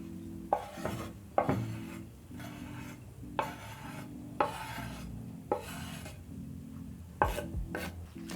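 Onion being chopped with a knife on a board for samosa filling, a steady series of sharp, close cutting taps spaced about a second apart over a quiet kitchen background.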